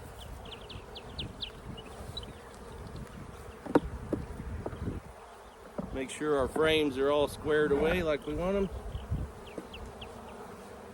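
Honey bees buzz around an open beehive while burr comb is cleaned off and boxes are put back. A steady, close insect drone continues throughout, with someone talking over it in the second half.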